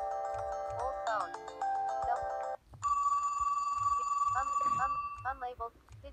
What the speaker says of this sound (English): Old phone.